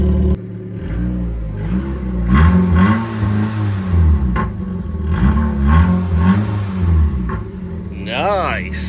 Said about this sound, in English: Listen to that K-Series roar.